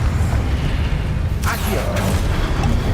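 A Confringo blasting spell goes off in Hogwarts Legacy, a brief bright burst about midway followed by a second swish, over a constant low rumble of game ambience, with a voice speaking throughout.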